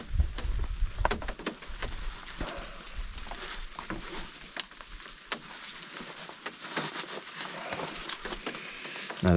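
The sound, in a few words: heavy rain falling in wind, Scotland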